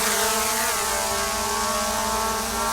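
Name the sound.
Skydio 2 drone propellers spinning up at takeoff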